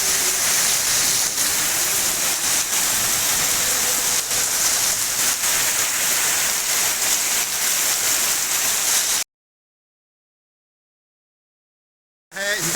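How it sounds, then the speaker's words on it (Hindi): Heavy rain pouring steadily during a cloudburst flood, a dense continuous hiss for about nine seconds before cutting to silence and briefly returning. "मोटी मोटी बारिश।"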